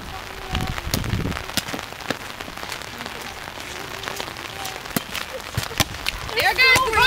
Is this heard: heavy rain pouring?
yes